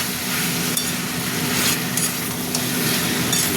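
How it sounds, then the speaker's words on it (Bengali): A spoon scrapes and stirs a vegetarian cauliflower and green pea curry in a hot pan, producing a continuous soft sizzle with scattered clinks and scrapes, close up and without voices. "একটু আর একবার নেড়ে দিই"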